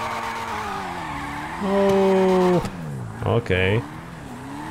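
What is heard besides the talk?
car drifting with tire squeal in video game GTA 5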